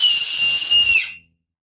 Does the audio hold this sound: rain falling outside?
no